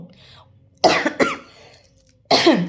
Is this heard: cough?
yes